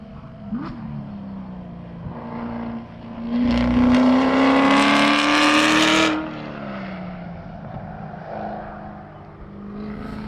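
A Turbo S race car laps the Gingerman track, its engine note droning steadily, then swelling loud as it revs hard past for a couple of seconds before easing back to a more distant hum.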